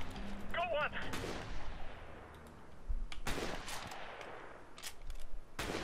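Gunfire in Call of Duty: Modern Warfare cracks out in several sharp, booming shots with echoing tails, spaced irregularly over a low rumbling battlefield background, with a short voice near the start.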